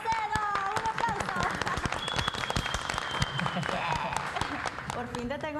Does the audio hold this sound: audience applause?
yes